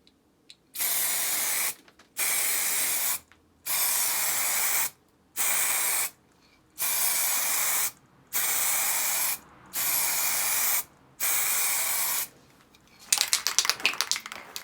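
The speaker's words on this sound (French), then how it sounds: "Enfin la jante, la peinture, la bombe." Aerosol spray paint can hissing onto a car wheel rim during a DIY wheel renovation, eight steady bursts of about a second each with short pauses, close and loud, then a rougher rattling spray at the end.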